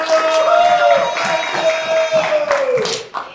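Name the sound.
audience applause and cheering for the performers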